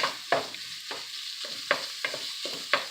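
Chopped sausage frying in a hot pan, with sizzling bursts and stirring scrapes every half second or so, close and fairly clear, with no talking.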